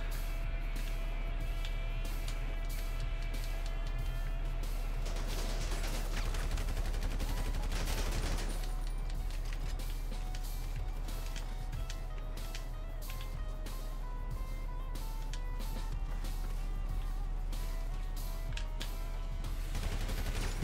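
Gunfire rattles in Grand Theft Auto 5 Online amid an online match, with repeated shots and bursts over a continuous game engine and vehicle drone, loud and busy throughout.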